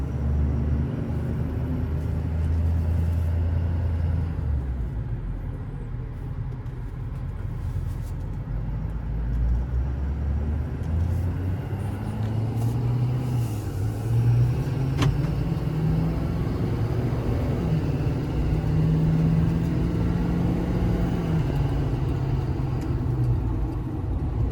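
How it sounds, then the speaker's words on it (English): A 2015 Ford F550 with a 6.7 diesel, automatic transmission and 4x4 drives down the road: a steady low engine drone and road rumble heard from inside the cab, with the pitch rising and dropping as it shifts gears. "Brakes feel good, rides nice and smooth down the road, tracks straight and shifts through the gears"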